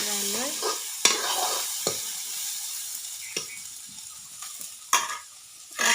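Food fries in a pan while a utensil stirs it, giving soft scraping strokes over a low, steady sizzle, close and fairly quiet.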